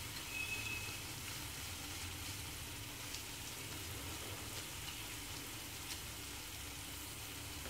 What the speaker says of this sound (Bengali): তো আমরা ভাজা হওয়া পর্যন্ত অপেক্ষা করছি।